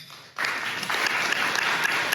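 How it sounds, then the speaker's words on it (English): Audience applause in a room during a talk on land acknowledgement, breaking out suddenly after a quiet moment and continuing steadily as a dense patter of many hands clapping, with no voices over it. "Round of applause."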